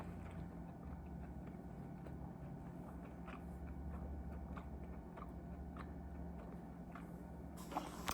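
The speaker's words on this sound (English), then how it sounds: "There's gonna be a lot of chewing on this." Someone close to the microphone chews meat on a carnivore diet. The faint, steady, moist chewing and soft crunching clicks repeat rhythmically over a low background hum, with no talking.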